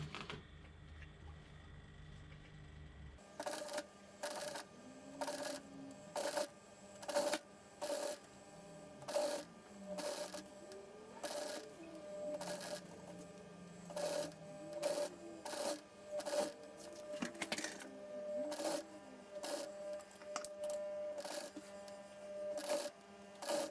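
An upholstery sewing machine fitted with a modified presser foot, used on a chair restoration, runs in short repeated bursts of stitching, each a quick mechanical chatter separated by brief pauses, close and moderately loud.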